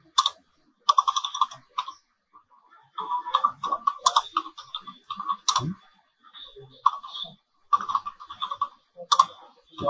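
Typing on a computer keyboard while entering a report in Therap software, with quick bursts of close, clicky keystrokes separated by short pauses.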